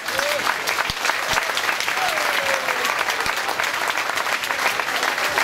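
An audience at a Kerwe village fair claps loudly in a vote, a dense, continuous wall of applause from a large crowd, with some voices mixed in.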